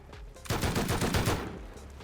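Rapid automatic fire from an AK rifle in the survival game Rust, a dense burst of loud, close shots lasting over a second after a brief quieter lead-in.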